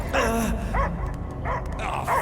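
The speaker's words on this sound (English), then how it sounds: "I hear only barking." A dog barks in Marvel's Guardians of the Galaxy video game, giving four loud, close barks and yips in a quick, uneven rhythm, with no talking over them.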